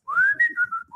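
A man whistles a short tune alone, a clear, close melodic line of sliding notes with brief pauses between phrases.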